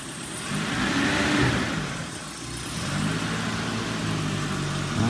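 Used car engine running as the vehicle pulls forward and turns around, a steady mid-pitched drone that swells slightly with light acceleration, close and continuous, with no talk.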